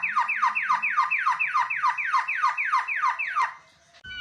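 A white-rumped shama mimics a police car siren with a rapid run of about a dozen repeated sweeping whistles, steady and close, ending with a brief thump.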